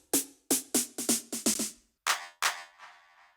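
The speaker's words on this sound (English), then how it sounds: "I've added the drums, some snares" Electronic drum pattern for a track, with kick, bass and lead parts joined by snares: a run of eight punchy, evenly spaced hits, then two broader crashing hits with a tail.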